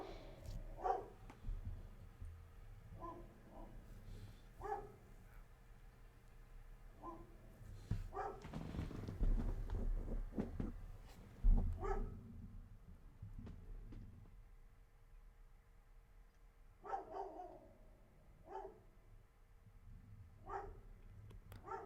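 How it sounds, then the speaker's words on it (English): A dog barks in short scattered bursts at a distance, muffled as if outdoors, with quieter stretches between the barks. "My dog's barking outside."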